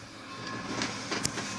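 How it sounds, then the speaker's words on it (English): A train rolling past near 19th-century railroad tracks at a museum, a faint steady rumble with a few soft clattering wheel clicks. "And that is a train you can hear a-going."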